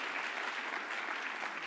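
Audience applause, a dense even patter of clapping that holds steady for a moment, moderately distant and fairly soft.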